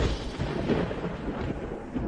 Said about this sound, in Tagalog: Bumagsak ang kulog ng langit.